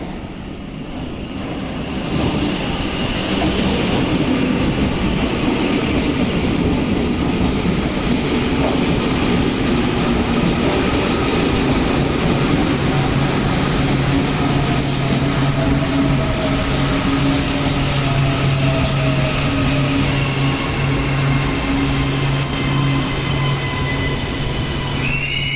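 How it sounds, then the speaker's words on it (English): A six-car Auckland southern line commuter train bound for Britomart rolls into a station, a loud steady rumble of wheels on rails with squealing tones rising near the end, no voices. "The southern line towards Britomart is about to come in"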